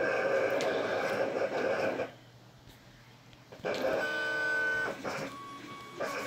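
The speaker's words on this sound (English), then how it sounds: "Try recalibrating the printer so it cuts toward the right instead of the left" A vinyl cutter working as a sticker printer hums and whirs steadily through two runs with a brief quiet pause between them, close and even in level, with no talking over it.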